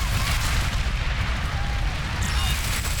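An airsoft grenade goes off during a game, a dull boom folded into loud, continuous outdoor noise and rumble, with no clear separate burst standing out.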